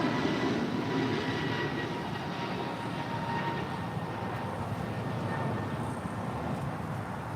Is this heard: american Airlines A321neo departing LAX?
yes